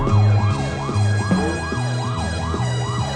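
Emergency siren in a film, wailing loudly in a steady rising and falling pattern that repeats about every half second over a low engine drone, with no talking.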